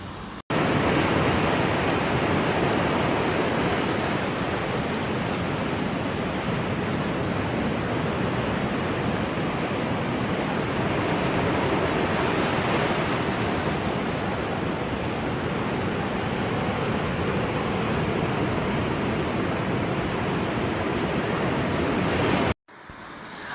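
Sea waves roll and wash continuously onto a beach at Parassinikadavu in Kannur, a loud, broad steady surf roar that holds for over twenty seconds and cuts off abruptly near the end.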